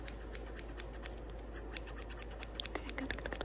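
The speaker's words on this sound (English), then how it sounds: "Now I want to go back in with the little scissors to sort of zoom, even that out." Small scissors snipping hair during a close-up haircut, a rapid series of crisp, bright snips repeating steadily and near, with no talking over them.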